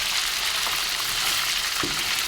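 Chicken fries in hot oil over a strong flame, giving a steady, close, bright sizzling hiss with a couple of soft pops and no talking.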